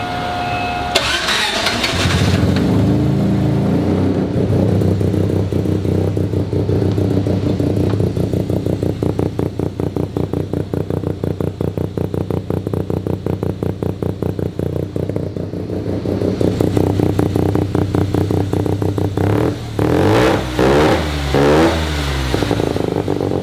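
A 650cc single rotor rotary engine in a small speedster cranks, fires and settles into a loud, rapid, pulsing idle held steady at close range, then briefly revs near the end.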